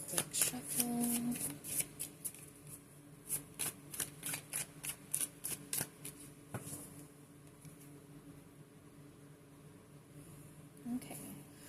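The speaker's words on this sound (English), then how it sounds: "we'll go ahead and give the cards a quick shuffle." A deck of tarot cards is shuffled in a quick series of crisp riffling bursts, close up, followed by quieter handling and a faint voice.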